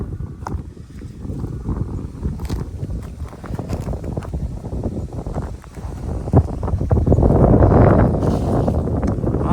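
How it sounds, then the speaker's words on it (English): Steady 10 to 12 mph wind gusts at a subzero winter campsite buffet the microphone with a low, rumbling roar that swells louder toward the end, with faint rustling and scattered knocks. "It is kind of windy though. Got 10, 12 mile an hour winds today."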